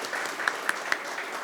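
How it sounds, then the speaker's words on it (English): Audience applause for a panel speaker at a women-in-leadership community event, a steady wash of many hands clapping indoors with a few sharper individual claps standing out. "All right, so we just clapped for Lynn"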